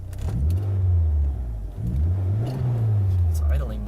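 A 1998 Mitsubishi Eclipse GST idles up close, its low engine drone rising and falling in slow waves, with small clicks and rattles over it.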